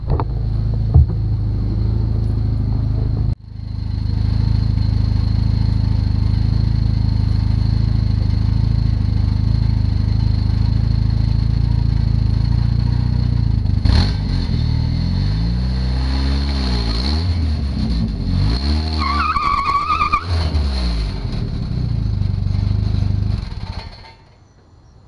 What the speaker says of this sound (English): I wonder if it'll do a burnout.